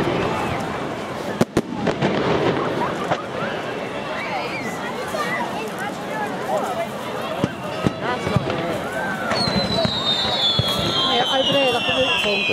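Fireworks bursting at a Hastings Bonfire Night display, a run of booms and crackles including one sharp bang near the start, heard amid crowd chatter and people talking nearby.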